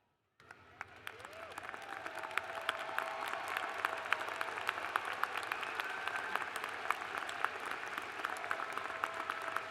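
A large audience applauds at a spring commencement ceremony, sustained dense clapping that swells in after a moment of quiet and carries on steadily, with a faint voice briefly underneath.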